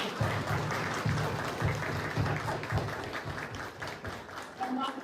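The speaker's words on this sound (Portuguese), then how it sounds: "Reginaldo, uma salva de palmas para eles." An audience at a spiritist talk about ayahuasca applauds with steady, dense clapping that lasts several seconds at a moderate level.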